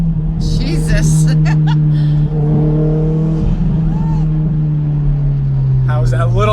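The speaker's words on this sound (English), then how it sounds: "How's that little second gear rip?" A 500whp Mitsubishi Evo X pulls hard in second gear, its engine drone loud and steady from inside the car and dipping slightly toward the end, with voices in the cabin over it.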